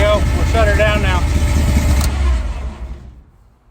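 A 1964 Mercury engine runs after a cold start, a steady close rumble with a whining tone early on, then dies away and falls to near silence near the end.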